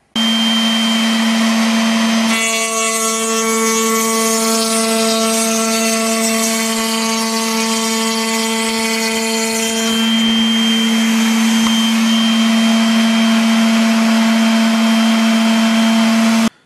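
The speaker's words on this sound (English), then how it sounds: "Now I can adjust the height of the cutter and the fence to start taking the slope off." A cutter machine taking the slope off a workpiece, set against a fence: a loud steady motor whine that deepens into a harsher, heavier cutting tone for several seconds mid-clip, then returns to the lighter running hum.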